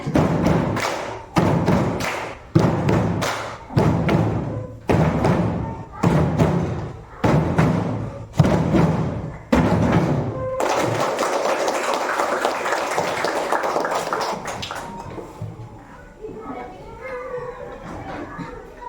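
A class of children claps out the steady rhythmic 'tepuk champion' clapping pattern in bursts as a classroom ice-breaker, voices chanting along, ending in a wash of cheering and chatter.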